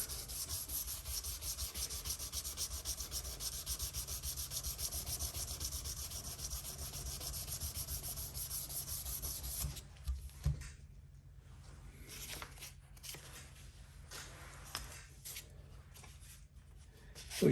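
Sanding by hand, a close, continuous dense scratchy rubbing that runs steadily for several seconds, then breaks into shorter intermittent strokes with gaps, with no talk.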